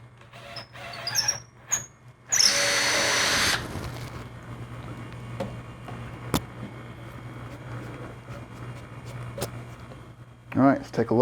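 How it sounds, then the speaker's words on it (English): A power drill whirs loudly for about a second boring a hole in clamped wood for a pinned tenon joint, amid quiet handling noises and clicks; a person speaks briefly near the end. "I just need to drill the hole."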